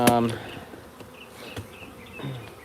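A live honeybee swarm buzzes steadily at moderate level as it is shaken, with a sharp knock at the start and a few brief thumps and louder surges of buzzing.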